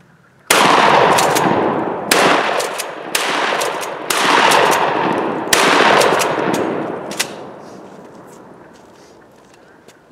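Mossberg 500 pump shotgun fired at an outdoor range, five loud booming shots at roughly one-second spacing with a smaller pop after, each blast trailing off into echo.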